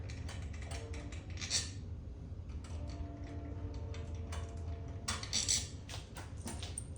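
A ratchet wrench turns out bolts on a Harley-Davidson 96-inch Twin Cam motorcycle, quick close clicking bursts of the pawl in short runs, fairly quiet against a low background hum.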